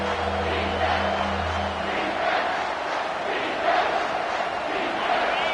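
Home crowd at a football game roars as the defense faces third down, a loud, sustained wash of stadium noise with swelling cheers and a faint commentator voice underneath.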